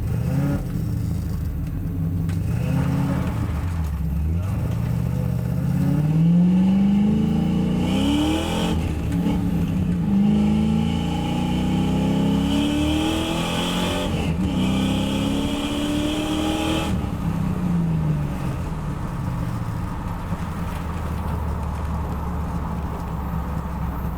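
A Ford Mustang drives and accelerates under a loud, continuous engine rumble, its revs sweeping up and down repeatedly as it pulls hard, heard from close range with no talking.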